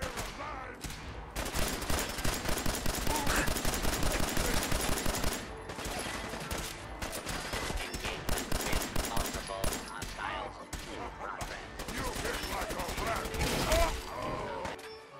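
Gunfire in Fallout 4, sustained rapid bursts and shots crackling almost continuously at moderate loudness, mixed with voices talking over the combat.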